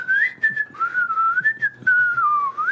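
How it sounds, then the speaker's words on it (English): A person whistles a wandering tune, close and clear, with small breathy pauses between phrases. "I don't whistle, but I can whistle better than that."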